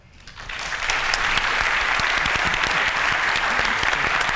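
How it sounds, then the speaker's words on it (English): An audience bursts into applause after a talk, swelling quickly to dense, steady clapping that continues loudly to the end. "So give a round of applause."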